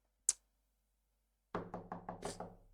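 A series of rapid knocks on a door in a horror video game, about six firm raps in quick succession, preceded by a single sharp click and silence.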